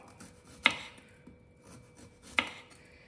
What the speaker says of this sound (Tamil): இந்த மாதிரி எல்லாத்தையும் கட் பண்ணிக்கணும்.